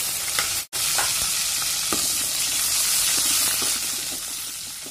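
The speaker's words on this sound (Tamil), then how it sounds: "இது நல்லா ப்ரௌன் கலர் வந்ததுக்கு அப்புறம் வெங்காயத்தை சேர்க்குறேன்" Onions frying in hot oil with browned garlic in a kadai for a dry fish curry, a loud steady sizzle that runs throughout, broken by a single brief dropout near the start.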